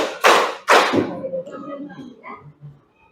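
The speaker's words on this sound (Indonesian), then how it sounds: "tepuk satu kali, tepuk dua kali, tepuk tiga kali." Two sharp, loud claps ring out close by, followed by a person speaking briefly.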